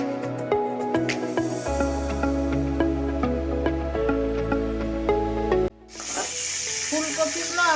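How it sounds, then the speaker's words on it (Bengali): Cauliflower florets fry and sizzle in white oil in a wok, a continuous crackling hiss heard beneath steady tonal background music. The sound cuts out briefly near the end before the sizzle returns. "এবার ভাজবো ফুলকপি।"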